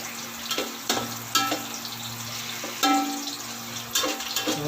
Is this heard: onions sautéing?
yes